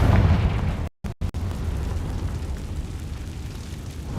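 A Confringo spell explodes in the video game Hogwarts Legacy: a loud booming blast with a low rumble, cut by a brief dropout, then a long fading roar of debris.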